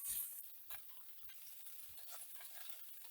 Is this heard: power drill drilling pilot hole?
no